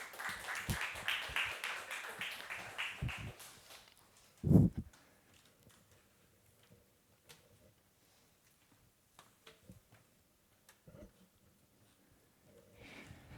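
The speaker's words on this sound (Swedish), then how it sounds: "En till applåd för Andreas Karlund." A seminar audience breaks into a few seconds of dense hand clapping that fades out, followed by a sharp thump and long near-silence with faint scattered rustles.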